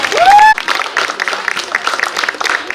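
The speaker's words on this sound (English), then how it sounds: "he should deserve a big round of applause" Audience applause at a university NSS 5K and 10K marathon event, a dense spread of clapping that follows a short rising tone and keeps going steadily to the end.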